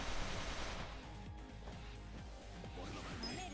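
An enemy's gun firing in Yakuza: Like a Dragon, a steady barrage of loud repeated shots and crashing impacts with no pause, thick with overlapping noise.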